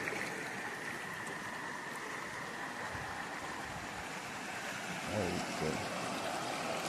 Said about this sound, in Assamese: য'ৰ পৰা জুৰিটো বৈ আহিছে, তাত আৰু বেছি শব্দ হৈ আছে